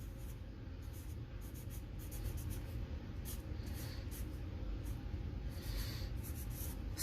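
A pen scratches out ink labels on paper in a pen-and-ink drawing session, a faint close series of soft strokes and short scribbles with a few brief pauses, without talk.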